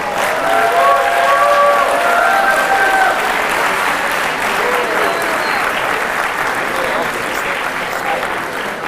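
An audience gives a round of applause for the 2018-2019 Lexington Catholic college signing class at a signing ceremony; loud, dense, sustained clapping fills the whole stretch, easing off only slightly at the end.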